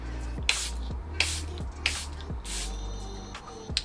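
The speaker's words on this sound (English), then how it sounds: "I'm gonna go in with the Charlotte Tilbury airbrush setting spray" Charlotte Tilbury airbrush setting spray misted from a pump bottle in several short, hissing bursts at a steady rhythm, close by and fairly quiet, with no talking.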